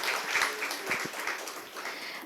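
Audience applause at a life sciences conference, a brief, moderately distant patter of clapping from a seated crowd with no talk over it.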